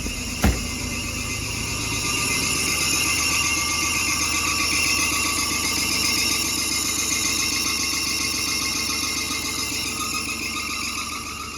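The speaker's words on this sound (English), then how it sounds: "Runs good, just alternator's very loud, it's squealing" A squealing alternator on a Suzuki Samurai with a swapped-in V6 engine whines loud and steady over the running motor, holding a constant piercing tone close by with no talk.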